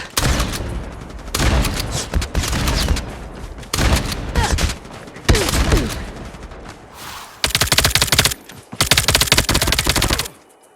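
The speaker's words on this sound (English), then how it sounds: "I was just shooting fucking randomly" Rapid video game gunfire in bursts, loud and close, with sustained automatic strings separated by short pauses and a long heavy burst near the end.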